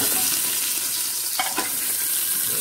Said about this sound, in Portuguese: E agora eu vou refogar a rabada na panela de pressão.